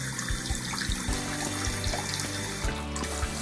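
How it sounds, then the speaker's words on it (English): Tap water runs steadily into a sink that is being unblocked, a continuous close splashing stream with no talking over it. "So I'm gonna put a bit of water in."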